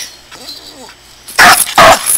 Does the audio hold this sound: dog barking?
yes